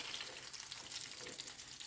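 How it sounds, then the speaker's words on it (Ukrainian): Soft, steady sizzling of apple pancake batter frying in a covered pan, a quiet crackle with faint fluctuations and no talking. "І ще смажимо з другої сторони."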